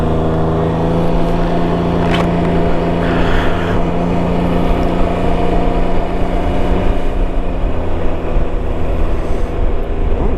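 A Can-Am Ryker three-wheeler cruises along the road, a loud, constant engine drone mixed with rushing wind that holds steady throughout.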